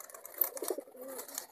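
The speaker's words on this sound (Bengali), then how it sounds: "আমাদের মোটা খুব সুন্দর ডাকাডাকি করছে" Pet pigeons cooing softly at a distance, a couple of low burbling calls over faint background noise.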